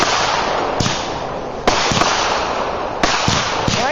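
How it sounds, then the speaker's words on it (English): Fireworks going off outdoors, a few sharp loud bangs spaced out over a steady crackling, hissing background of bursts, with no voices. "the person shooting fireworks"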